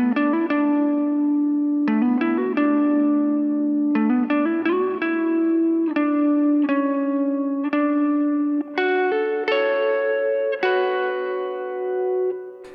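Guitar plays a section of a song, with clean picked notes and chords ringing with effects and reverb, moving through a steady melodic pattern alone without speech.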